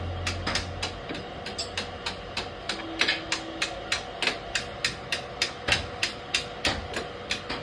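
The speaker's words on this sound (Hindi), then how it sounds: "तो हम इसको टाइट कर देते हैं एलैंकी से" Rapid metallic clicks and light knocks from an L-key wrench tightening a spark plug on a Bajaj Pulsar NS160 motorcycle, about two clicks per second, steady and close, with a low hum beneath.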